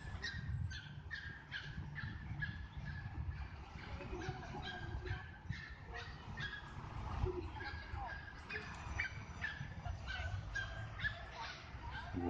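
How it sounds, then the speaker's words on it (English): Small dogs running around and barking in a children's park in Kyiv, with repeated yips and barks scattered through the clip over a steady outdoor background murmur. "small dogs running around and barking"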